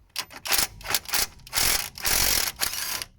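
A hand ratchet working loose the front brake bolts on a Volvo S80, repeated rapid clicking bursts with brief pauses between strokes, close and loud.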